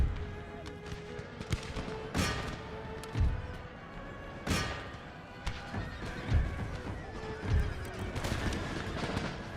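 Horses whinny and neigh repeatedly amid a busy battle din of thuds and distant gunfire in the video game Empire: Total War, several calls rising over the steady clamor.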